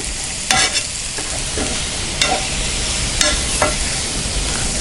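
Potato pieces, salted, are stirred in a frying pan: a constant sizzle broken by a few sharp scraping strokes of a spoon, close and fairly loud.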